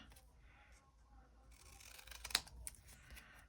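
Scissors trimming paper journal pockets, a few quiet snips with a sharper cut near the middle, close and faint with no talk.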